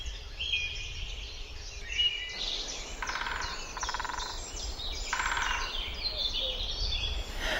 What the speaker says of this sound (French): Partout, les oiseaux lancent les tris de leurs chants charmants.